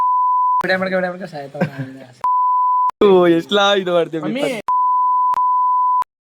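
Sharp steady censor bleeps, a pure tone repeated in four bursts, inserted in post-production between lively stretches of speech at a family reunion gathering.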